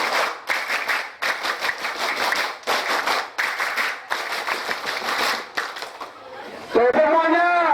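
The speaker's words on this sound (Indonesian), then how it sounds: "Dua kali tepuk pramuka." Scout-style rhythmic clapping from a large group of madrasah students in Padang, sharp, loud and in tight unison in short repeated bursts, followed by a brief high whistle-like tone near the end.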